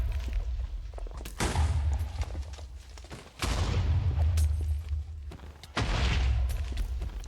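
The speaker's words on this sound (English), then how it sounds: "we're gonna get a few explosions in the nether" Explosions in the Nether in Minecraft, three heavy booming blasts spaced a couple of seconds apart, each with a broad crackling rumble that lingers before the next.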